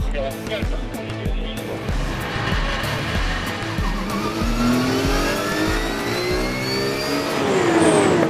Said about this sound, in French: les concurrents se placent sur la grille avant de procéder au traditionnel tour de chauffe en vue du départ